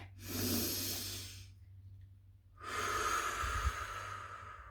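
Deep breathing in a breathing exercise: a long, close inhale of about one and a half seconds, a short silent pause, then a longer, louder exhale ending in a soft thump, with no talking.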